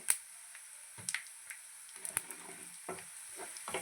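Tempering sizzling in oil for an emergency tomato pickle, with asafoetida added, giving faint, soft crackles and pops and a few light scrapes against a quiet hiss.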